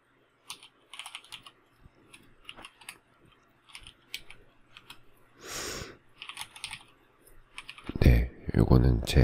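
Login ID being typed on a computer keyboard: scattered light clicks and short bursts of keystrokes at close range, ending in a louder flurry of key presses.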